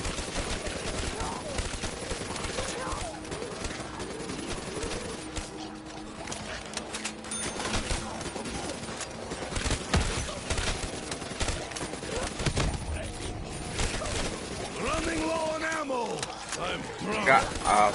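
Rapid gunfire and bursts of shooting in the zombies mode of a first-person shooter, on the Verruckt map, run steadily through the whole stretch under the overlapping talk of several players.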